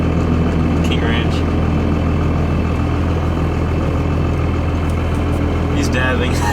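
Steady engine drone from inside a manual-transmission truck while driving, a constant low hum filling the cab with faint road noise; no talk is heard.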